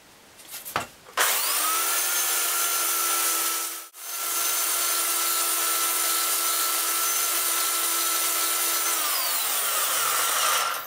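A power file smooths and rounds the curved edges of a handmade prop machete, running as a loud, steady, high-pitched whine for about ten seconds with one brief dip partway through.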